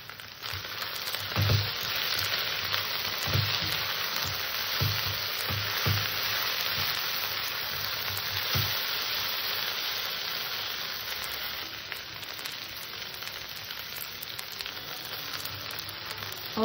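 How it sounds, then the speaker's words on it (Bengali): Okra fries in a pan over low gas while it is stirred often, a constant broad sizzle with soft low knocks from the spatula every second or two, gradually easing. "ঘন ঘন নেড়ে ভেন্ডিটাকে আমি ভেজে নেব"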